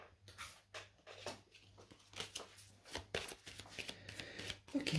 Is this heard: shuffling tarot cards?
yes